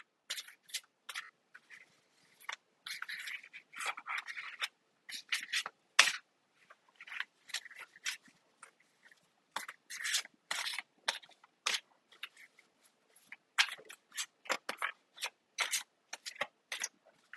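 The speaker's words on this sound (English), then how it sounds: "I think we're about done shuffling." Tarot cards shuffled by hand give quiet, crisp bursts of riffling and rubbing in irregular clusters, close up and soft, with no talking.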